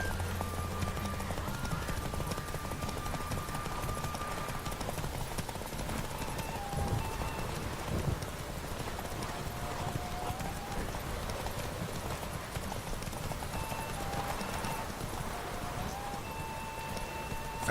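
Horse hooves galloping in The Witcher 3, a fast steady clip-clop under a dense rain-like wash with tonal game music, loud and continuous through the whole stretch.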